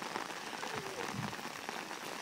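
Rain falls steadily during a summer storm in Ottawa, a faint, dense patter of drops on wet surfaces that continues without pause.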